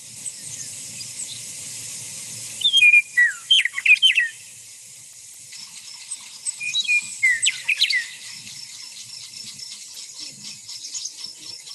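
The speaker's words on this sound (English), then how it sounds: "That's a meadowlark. I haven't heard that since I was a child." A meadowlark sings from an open-space hillside, two short bursts of clear, bright, warbling notes with a quiet pause between them over faint outdoor background.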